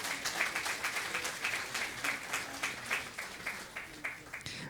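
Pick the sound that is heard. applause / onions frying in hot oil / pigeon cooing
applause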